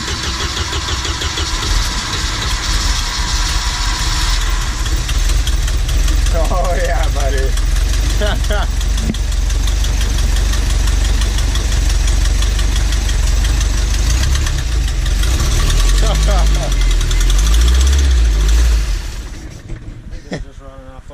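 A Volvo Penta AQ151c boat engine, fed from the boat's fuel tank after more than ten years unused, fires up and settles into a steady, loud idle, with people talking and cheering excitedly over it before it cuts off near the end.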